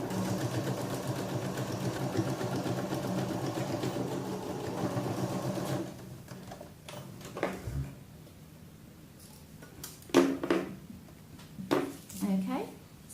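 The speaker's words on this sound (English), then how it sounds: "I'm going to start stitching one of the side seams" A sewing machine stitching a side seam on a little girl's dress runs as a steady whirring hum for about six seconds, then stops, followed by quieter handling clicks and brief talking.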